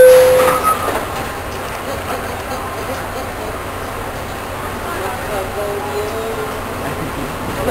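A train heading north to the Bronx rumbles steadily from inside the car, a constant low roll with faint rail noise and a brief tone at the start.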